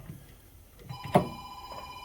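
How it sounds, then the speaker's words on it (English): A telephone rings in a workshop during a rear brake rebuild, with a steady electronic ringtone tone entering midway and sounding once more, moderately loud over quiet room background. "sorry about the phone. It's not for me."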